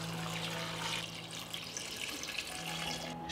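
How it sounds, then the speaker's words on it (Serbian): About two litres of cold water pour steadily from a tap into a pot of peeled pears, a continuous, close splashing rush with no talk. "U šerpu sipam 2 litre hladne vode."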